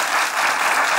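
Studio audience applause on a Turkish comedy show, a dense, loud, even roar of clapping with no gaps.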